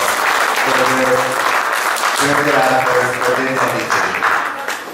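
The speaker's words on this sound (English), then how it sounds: "they deserve a big, big round of applause from all of us for their efforts, for their dedication" Audience applause at a Mha Puja and Nepal Era 1139 New Year cultural event, a steady loud wash of clapping lasting the whole stretch, with a voice speaking over it.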